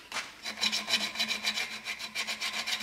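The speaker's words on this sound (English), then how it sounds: "I'm going to take you some real rough sandpaper" Rough sandpaper scratches rhythmically across a walnut wood bowl, quick repeated rasping strokes close up and fairly quiet, with no talking.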